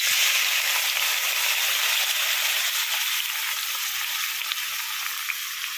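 Salted chopped mango fries in hot sesame oil, giving a loud, steady, hissing sizzle that fills the whole stretch and fades slightly near the end, with no voices.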